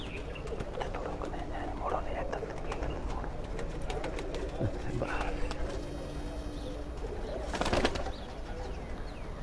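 Pigeons on a Punjab rooftop loft in Nowshera Virkan give low repeated coos while someone talks nearby, with a few clicks and a short louder burst of noise near the end.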